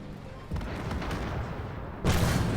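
Heavy tank cannon fire in the video game Armored Warfare, with an M8 Thunderbolt as the target: a sustained rumbling battle din, then a louder blast breaking in near the end, with no talking.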